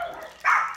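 A dog gives one short, sharp bark indoors, a brief burst over quiet background noise.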